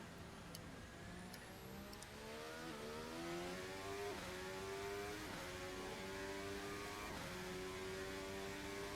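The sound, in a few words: RSS Formula Hybrid X 2026 race car from video game Assetto Corsa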